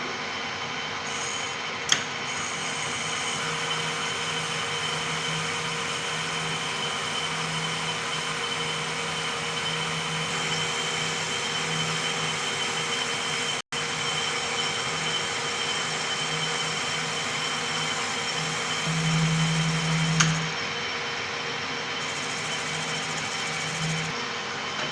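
A machine cuts a 0.5 mm finishing pass in a steady, continuous mechanical drone with a faint hum, unbroken for the whole stretch.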